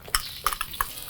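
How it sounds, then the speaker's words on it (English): Garlic and onion frying in hot oil in a wok, a low sizzle punctuated by a few light clinks and scrapes from a utensil. "Now when the wok's hot, I'm going to add some oil and some garlic and onion."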